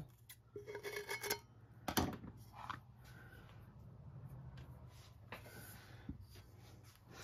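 Scissors snip and trim a paper template against a 20 oz skinny Hogg tumbler, giving several short, faint cuts and rustles close by, with light handling clatter in between.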